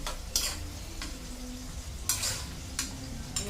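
Onions sautéing in a pan for pork sinigang sizzle softly and steadily while a utensil scrapes and stirs them in a few distinct strokes; close and fairly quiet, with no talking.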